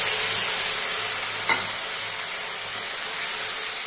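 A ginger-cumin and green chili paste fries in a pan with potatoes for a fish curry, giving a constant close hiss broken once by a single brief scrape.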